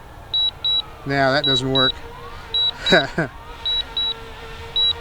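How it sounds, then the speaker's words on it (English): A DJI Mavic Mini drone returning home emits short, high electronic beeps in regular pairs that keep repeating, while a person speaks nearby over the beeping. "I've been told you can shut off that beeping by pressing the power button real quick."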